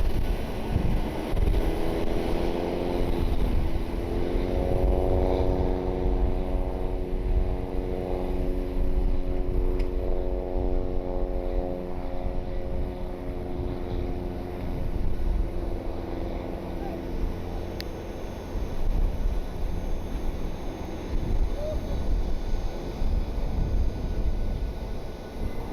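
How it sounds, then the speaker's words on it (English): A private aircraft departing runway 28 left at Columbus Glenn Airport, a steady loud jet roar with a rising, shifting whine across the whole span, heavy wind buffeting the microphone and a voice talking over it. "Got a private aircraft departing here on 28 left."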